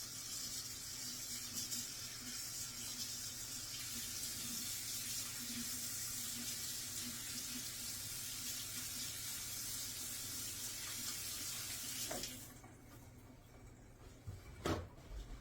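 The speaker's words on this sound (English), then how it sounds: "now let me wash my hands" Tap water runs steadily into a sink while hands are washed, a continuous hiss and splash for about twelve seconds, then the faucet shuts off and a couple of small knocks follow.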